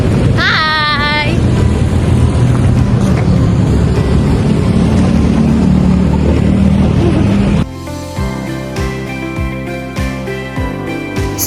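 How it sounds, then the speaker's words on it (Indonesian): Roadside traffic of motorbikes, cars and large trucks passes close by, a loud continuous engine and road rumble that abruptly gives way to a quieter stretch with rhythmic mechanical thumps. "Sepanjang perjalanan, suara kendaraan berasa banget, mulai dari motor, mobil, sampai truk besar yang lewat."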